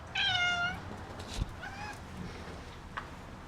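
A cat meows twice, close and clear, the first call long and drawn out and the second shorter, followed by faint rustling and quiet background noise.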